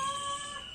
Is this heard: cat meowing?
yes